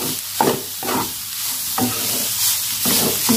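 Oncom, a fermented soybean cake, is stirred in a frying pan with a steady sizzle. Louder scrapes of the spatula come about every second, and no one speaks.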